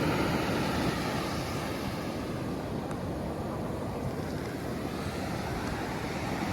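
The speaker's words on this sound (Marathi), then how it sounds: "शांत आणि फक्त पाण्याचा आवाज." Sea waves breaking on Shirgaon beach in Palghar at night, a continuous soft wash of surf with some wind, steady and fairly faint with no talking.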